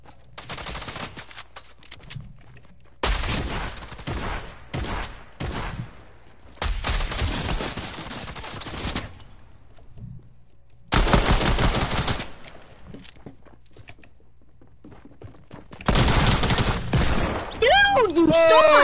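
Rapid SMG bursts from a golden tactical SMG in Fortnite, loud and close, arriving in several separate volleys with short gaps between them and game noise underneath.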